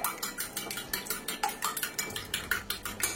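A utensil beats eggs in a bowl until the yolks and whites combine, a steady rapid clinking and tapping rhythm, close and clear, with no talking.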